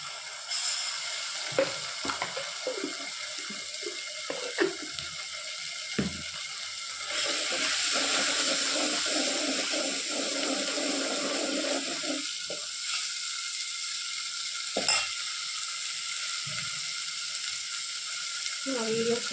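Ginger garlic paste sizzles as it fries for a dondakaya curry, a steady hiss throughout with occasional clinks and stirring sounds from the pan.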